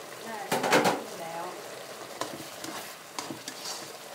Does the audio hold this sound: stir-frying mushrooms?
yes